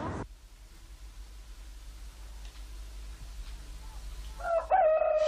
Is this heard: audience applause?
no